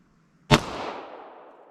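A single 180-grain 10mm round fired from a Glock with a 5.3-inch barrel: one sharp, loud crack after near silence, trailing into a long, fading reverberant echo.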